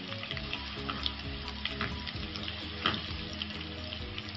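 Steady sizzling and crackling of garlic frying in a karahi pan, with occasional light clinks and stirring sounds over the constant hiss.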